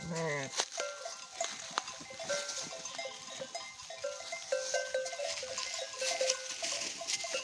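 A mixed flock of sheep, lambs and goats bleats repeatedly outdoors by a stream, with overlapping high cries near and far, a clanking bell, and herders' voices in the background.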